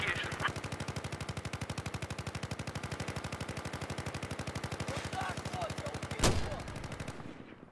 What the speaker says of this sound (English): I'm just launching frag rounds that way